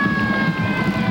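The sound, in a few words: ambulance siren going off after a touchdown at football game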